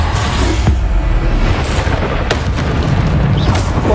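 Bombarda spell blasts in Hogwarts Legacy, a dense, loud wash of booming explosions and sharp cracking bursts that repeat over continuous combat noise.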